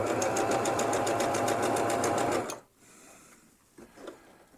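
Sewing machine stitching an X across a cinch strap, a loud, steady run of rapid regular needle strokes that stops abruptly about halfway through, leaving faint handling noise.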